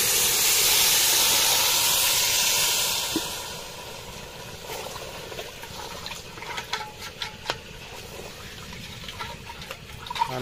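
Water poured into rice frying with spices for a village-style chicken biryani sets off a loud burst of steam and hissing that fades after a few seconds into quieter bubbling with scattered pops and clicks.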